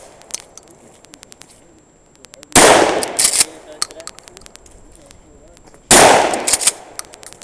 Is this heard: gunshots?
yes